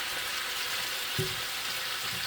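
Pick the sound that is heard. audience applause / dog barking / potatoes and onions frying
potatoes and onions frying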